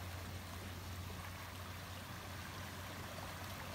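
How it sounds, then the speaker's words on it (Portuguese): Quiet, steady rush of water flowing into the Riacho do Belo Monte creek in rural Bahia, a continuous faint gurgling wash over a low constant hum, with no talking. "Tá chegando água, vai chegar bastante água ainda."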